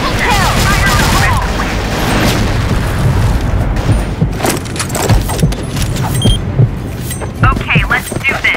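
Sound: grenade explosion in the video game CrossFire

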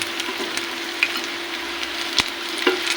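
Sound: cauliflower pakoras deep frying in oil

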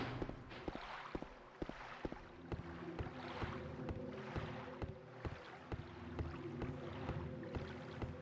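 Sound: rowing a boat on a lake in video game Silent Hill 2

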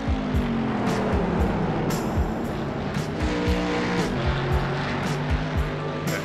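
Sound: race car driving at Oulton Park

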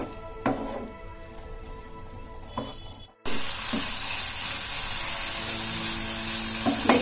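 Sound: potatoes with spices and yogurt stir-fried on high flame

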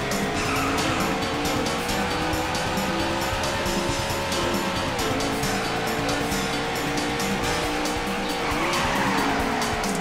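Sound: car tires squealing while drifting in a racing video game

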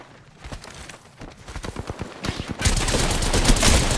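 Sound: gunfire in video game Vantage

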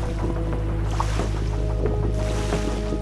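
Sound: ocean waves on a beach

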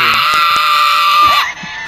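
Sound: war cry scream in the video game Fortnite

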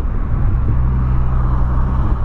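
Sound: tuned car driving past

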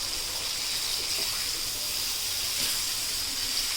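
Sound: Bombay duck (bombil) fish frying in oil on a pan

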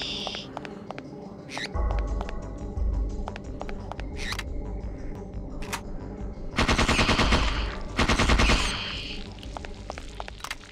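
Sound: rats attacking in the video game Parasite Eve 2

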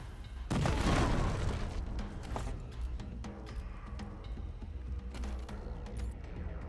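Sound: frag grenade explosion in Wasteland 3 video game

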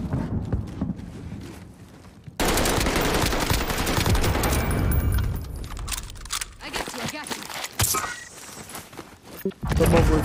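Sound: gunfire from a video game weapon

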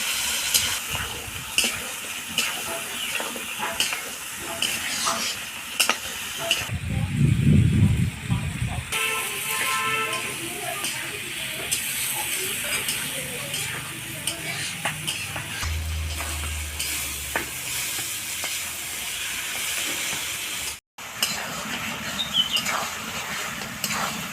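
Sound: mutton being sautéed and stirred with spices in pan

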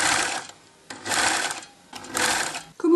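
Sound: sewing machine stitching bias binding onto a throw

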